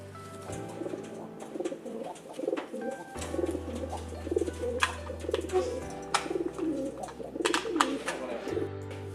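Pigeons coo in repeated soft, throaty phrases close by while people talk underneath. A low steady hum runs beneath the calls.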